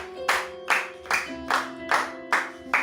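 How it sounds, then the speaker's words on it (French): Rhythmic clapping in church, six evenly spaced, fairly loud claps in steady time over a sustained held tone, without any talking. "Acclamez pour la parole"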